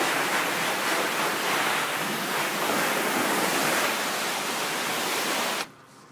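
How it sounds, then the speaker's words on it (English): Steady, dense hiss of water spray rinsing a house exterior during a soft wash, loud and continuous before cutting off abruptly near the end. "you can see he's rinsing right now"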